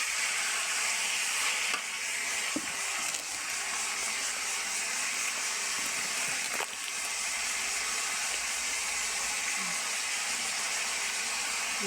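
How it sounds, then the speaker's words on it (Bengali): A vegetable bhaji frying in a pan gives a steady, loud sizzle that holds through the whole stretch, with a few faint clicks of a utensil and no talk. "আমি যেভাবে ভাজিটা করতেছি এরকম করবেন"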